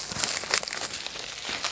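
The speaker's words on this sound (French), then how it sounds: "J'enlève le papier bulle" Bubble wrap is pulled off a parcel, giving close, brisk crinkling and rustling in short bursts that continue steadily, with no talking.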